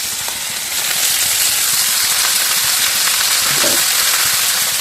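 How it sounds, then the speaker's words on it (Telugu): Cumin, green chillies, onions and neatly cut flat beans fry in a pan, giving a steady, loud broadband sizzle throughout with a faint stir partway through and no talking. "1 స్పూన్ జీలకర్ర, పచ్చిమిర్చి, ఆనియన్స్, నీట్గా కట్ చేసిన చిక్కుడుకాయలు,"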